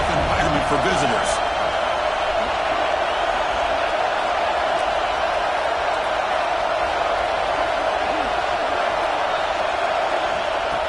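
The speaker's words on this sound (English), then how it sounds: "Listen to the crowd energy here in the early going." A dense stadium crowd roars steadily at a college football game between Notre Dame and Michigan, a loud, unbroken wash of cheering that fills the whole stretch.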